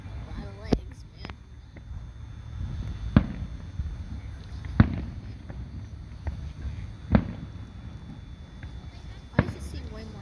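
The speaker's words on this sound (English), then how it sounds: "Why does it seem way more quiet than usual fireworks shows?" Fireworks at a Fiesta Days festival display go off in several sharp booms spread across the stretch, fairly distant and muted, with people talking and crowd murmur underneath.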